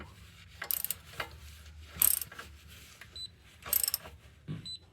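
Ratchet wrench tightening exhaust manifold bolts on a 2006 Subaru Forester, heard as a few short bursts of metallic clicking spaced across the clip, close and moderately loud over quiet background.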